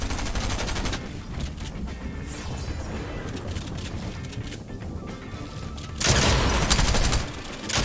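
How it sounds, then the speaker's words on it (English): Gunfire in a shooter video game, a dense burst of rapid shotgun-style blasts at the start and again loudly near the end, with a lower rumble of game action in between. "Those were some good shotgun shots."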